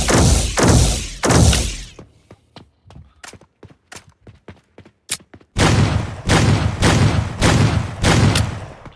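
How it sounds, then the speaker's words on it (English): Shotguns fire in a video game, with rapid heavy booming blasts at the start, a stretch of sharp clicks and thuds, then another run of loud repeated blasts. "Shotguns are hitting harder and sounding good."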